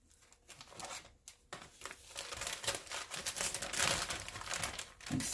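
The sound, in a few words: plastic gallon baggie being folded and crinkled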